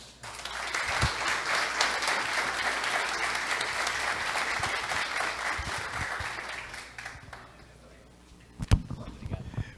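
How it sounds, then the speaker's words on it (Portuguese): An audience claps warmly at a commendation ceremony for police station staff in Rolim de Moura, steady applause lasting several seconds, then fading out as a few voices and a thump follow. "dá mais uma salva de palmas para o homem aí, gente."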